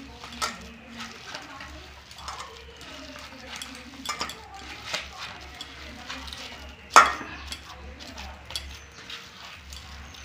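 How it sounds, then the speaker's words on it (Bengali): Soybean chunks being mixed by hand with salt, cumin powder and spices in a bowl, giving soft irregular squelching and rubbing sounds with occasional sharper knocks against the bowl, close up. "দিয়ে ভালো করে মাখিয়ে নিব।"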